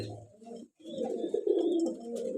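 Male pigeons cooing in a loft, a low throaty rolling coo repeated continuously at close range, with a brief pause early on before the cooing resumes steadily.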